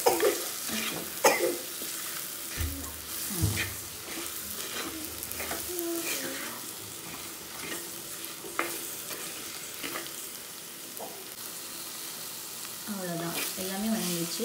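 Spices and ingredients sautéing in a pan for kathirikai (brinjal) kuzhambu, a steady close sizzle with stirring scrapes and clinks throughout, with brief bumps and a cough-like sound along the way.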